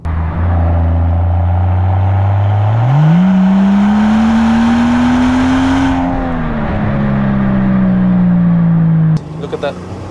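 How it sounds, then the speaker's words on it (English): Mansory-tuned Rolls-Royce Wraith engine revving loudly and close, a deep droning roar that climbs in pitch, holds high, then eases down before cutting off sharply near the end. "They made a Rolls-Royce loud"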